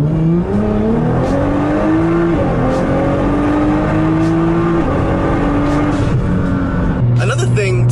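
A car is driven fast along back roads. Its engine drones loud and close, with revs climbing steadily and dropping at each gear change, over constant road and tire rumble.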